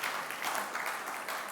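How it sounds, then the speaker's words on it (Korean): Applause from a church congregation during a Sunday worship service, a steady, dense patter of many hands clapping throughout, fairly even in loudness with no talk over it. "우리 조한 목장에서 박수."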